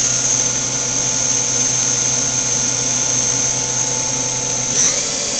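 The spindle of a Cincinnati-Milacron Arrow 1000 CNC vertical machining center runs at speed, a loud, steady high-pitched whine with machine hum, continuous for the whole span, no talk.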